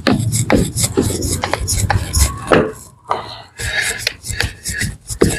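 Fresh flowers and herbs are rubbed with a wooden stick to prepare herbal pills, producing continuous close scraping and rasping strokes with an uneven rhythm.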